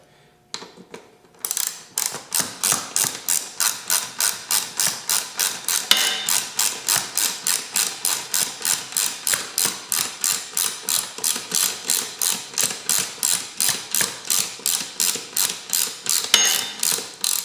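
A hand ratchet tightens the rear mounting bolts of a Corbeau GTS II aftermarket racing seat, a loud, close, steady run of rapid clicking strokes, evenly spaced, with no talk.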